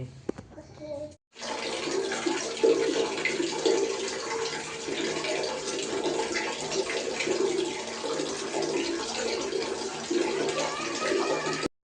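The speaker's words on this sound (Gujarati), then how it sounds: "તો ડોલ ભરાઈ છે આપણી" A tap pours water into a bucket at close range, a steady loud gushing that fills the scene after a brief quiet start, continuing evenly to the end with faint voices underneath.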